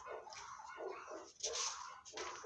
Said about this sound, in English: Those are not my dogs.